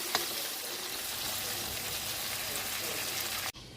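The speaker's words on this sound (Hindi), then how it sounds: "2-4 मिनट के लिए मैं इसको थोड़ा सा भूनूंगी" Chicken ginger karahi sizzles steadily in a hot pan, a dense, even hiss of frying held at the same level throughout, broken by a faint tap and then dropping sharply just before the end.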